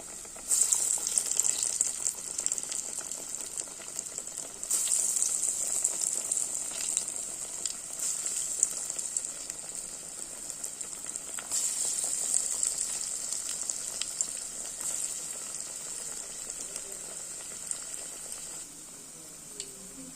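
Garelu, lentil fritter batter, frying in hot oil: a steady, close bubbling sizzle that runs throughout with small crackles and pops, brief surges as more batter drops in, easing slightly near the end.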